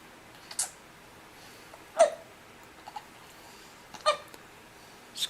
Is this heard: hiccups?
yes